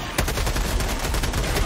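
Rapid automatic fire from a light heavy machine gun in the co-op shooter Helldivers 2, a close, loud, continuous rattle of shots in quick succession without talk.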